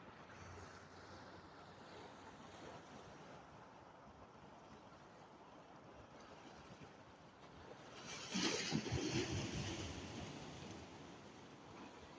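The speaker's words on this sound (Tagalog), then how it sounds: "Uy, ang lakas ng wave." Sea waves wash against large rocks on a windy shore where people are fishing. A steady, faint surf rumble mixes with wind buffeting the microphone, and a bigger wave surges and crashes loudly near the end.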